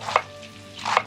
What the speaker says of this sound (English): let's cut it in shreds